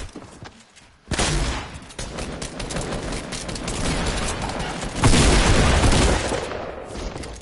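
Gunfire in a shooter video game's new limited-time mode: dense, rapid bursts of shots run almost without a break after a quiet opening, then swell into a louder stretch of heavy, overlapping fire.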